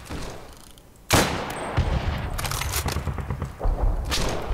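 Gunfire in a Roblox World War II game, with sharp close sniper-rifle cracks plus a volley of further shots and thuds in a noisy battle, all without speech.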